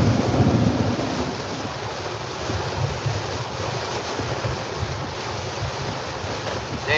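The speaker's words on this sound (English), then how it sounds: "This is like a lot of rain." Heavy rain roaring steadily and continuously, with low rumbling beneath it, loud and close throughout, no voices.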